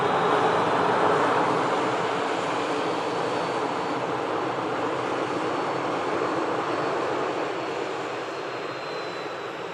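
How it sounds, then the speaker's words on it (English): A Qatar Airways airliner taxis toward runway 23 right for departure to Doha, its jet engines a loud, steady broadband roar that eases slightly toward the end, with no talking. "As the Qatar now fully commences taxi over to 23 right for departure back to Doha"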